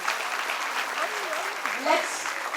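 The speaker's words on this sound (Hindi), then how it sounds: "A huge round of applause." Steady applause from an audience at a NEET 2026 exam result celebration ceremony honoring a top-ranked student, with voices and cheering mixed in over the clapping.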